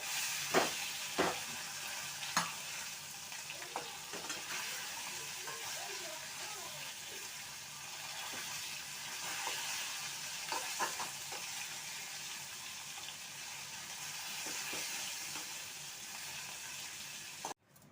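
Fried hilsa fish being broken into pieces with a spatula in a wok, a steady oily sizzle with a few sharp scraping clacks early on, continuing evenly until it cuts off at the end.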